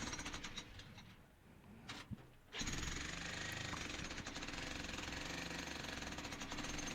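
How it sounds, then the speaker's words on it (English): Jackhammer breaking rock, rapid pounding hammering that eases briefly, then kicks back in at full, steady force and keeps rattling nearby. "I'll just poke around and put the end of the jackhammer where I think it's going to do the most good"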